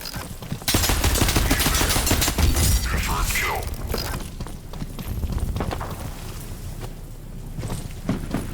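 Gunfire and bullet impacts from a cyberpunk shooter video game, a dense, loud barrage of rapid shots and clanking hits that runs throughout, with a voice talking over it.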